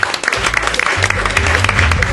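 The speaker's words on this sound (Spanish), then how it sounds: "otro aplauso para señores. etcétera." A live audience at a podcast festival event in Argentina bursts into loud, close applause, dense clapping that runs steadily for a couple of seconds with faint voices underneath.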